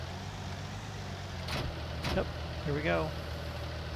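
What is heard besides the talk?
tractor engine in Farming Simulator 19 video game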